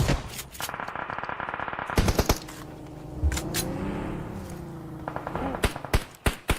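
Rapid automatic gunfire in the PUBG Mobile battle royale game during a PMSL EU Spring Grand Finals esports match, loud sharp bursts of repeated shots with brief pauses between volleys and some quieter background game noise.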